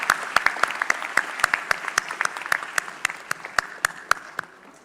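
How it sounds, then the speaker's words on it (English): Round of applause from a small quiz audience at an Indian Army quiz finale, sharp separate claps at an irregular, fairly quick rate, close and moderately loud, with no talking. "A huge round of applause for her"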